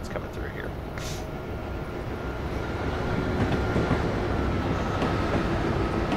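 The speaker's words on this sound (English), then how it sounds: "Amtrak trains coming through here." Two Amtrak trains rumble past in Train Simulator 2014 with a steady rolling roar and faint rail clatter that swells slightly toward the end.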